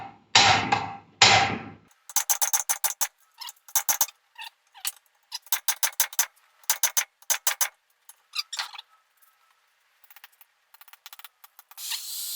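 A hammer striking a cold chisel on the running gear of a 1980 Triumph TR7, first two heavy blows, then bursts of quick sharp metallic taps in uneven clusters, close and loud with no talking.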